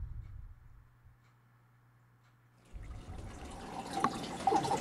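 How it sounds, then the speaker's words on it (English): Water in an aquaponics bell siphon starts flowing down into the standpipe: a quiet low hum, then a rising gush and trickle of water that grows louder toward the end. "Air is displaced as the water starts to flow down into the pipe, creating suction within the bell siphon."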